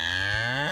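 A steady, drawn-out cow moo, loud and close, filling the whole moment with a low sustained tone.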